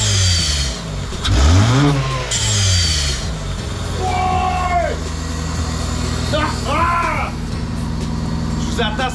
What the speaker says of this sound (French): on va vous faire entendre notre fabuleux turbo